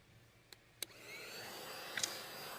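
Compressed air duster blowing dust off a 3D printer table, with two small clicks and then a steady, faint hissing rush of air that swells slightly and runs to the end.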